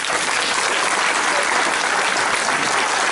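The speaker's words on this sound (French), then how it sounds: "vous pouvez les applaudir très fort." Loud, dense applause from an audience at an Armagnac estate gathering, steady and continuous throughout with no pauses, the whole crowd clapping together.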